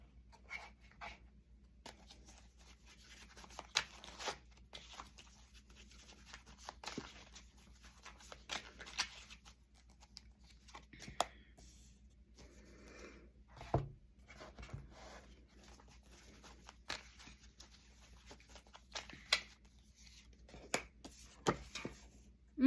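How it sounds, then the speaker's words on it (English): A deck of oracle cards is shuffled and cards are pulled, making soft papery riffles, slides and sharp flicks scattered irregularly through a quiet room. "pulling some oracle cards here"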